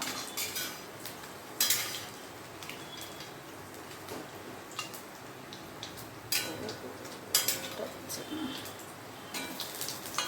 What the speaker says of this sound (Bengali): আমি আরেক পাশ উল্টে দিচ্ছি, দেখি এই পাশটা হলো কি না।